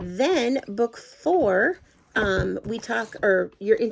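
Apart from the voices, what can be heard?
No distinct noise like a dog, phone or traffic.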